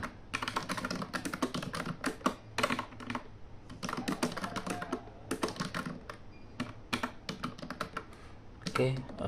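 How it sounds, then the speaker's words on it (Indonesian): Rapid, irregular clatter of keys as someone types on a keyboard attached to a 2012 Huawei tablet, quiet and close, in bursts with brief pauses between words. "Kita bisa ketik-ketik juga."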